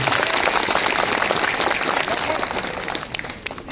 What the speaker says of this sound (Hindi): आपको स्वागत करने गोटे जोरदार करताली देगी